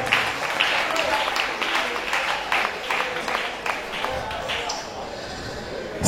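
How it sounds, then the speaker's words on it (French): An audience applauds a violin contestant at a quarterfinal of a competition, with sustained clapping across the room that thins toward the end, and a voice talks over it. "On l'applaudit s'il vous plaît"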